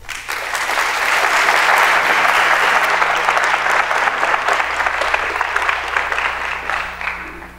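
Sustained applause from an audience welcoming Matt Tait to the stage at a school event on election hacking, steady and dense throughout with a slight fade near the end.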